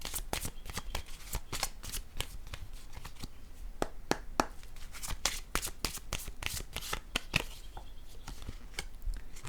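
Oracle cards riffled and shuffled by hand in a rapid run of crisp, close flicks and slaps that keep going steadily with no pause.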